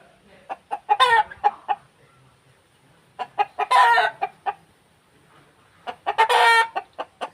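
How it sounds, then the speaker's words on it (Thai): A Thai rural chicken clucks close by in three rhythmic bursts, each building from short clucks into a longer squawking call, with quiet pauses between. "นี่เป็นไก่เยียเด้อพี่น้องเด้"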